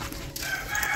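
A chicken clucks close by in a household yard, one short burst of fowl calls over a steady, muffled background with no talking.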